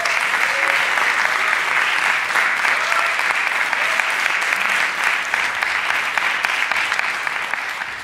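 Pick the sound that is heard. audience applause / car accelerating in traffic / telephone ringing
audience applause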